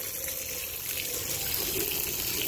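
Water gushes steadily from a household tap in a steady, loud rush. The water is dirty and sewage-like, carrying sludge, and no voices are heard.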